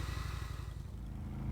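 A motorcycle pulls away in the point-and-click game Kathy Rain, a steady low engine rumble with a faint clattering pulse, close and continuous, with no voices.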